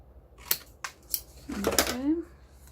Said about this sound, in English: I'll just do that with these scissors here